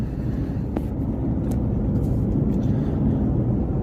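Interior of a 2021 Toyota Yaris Cross Hybrid on the move, a steady low road and engine rumble with tyre noise, constant and close, with a few faint clicks and no speech.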